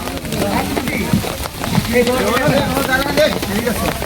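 Rain patters steadily on surfaces around boats at Ratargul swamp forest in Sylhet, a close, continuous hiss of drops beneath people chatting nearby.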